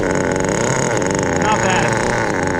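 A Kyosho FW-06 1/10 scale two-speed nitro RC car engine idling low, a steady close buzzing drone with a fine rapid pulse, holding even in level throughout with voices faintly underneath.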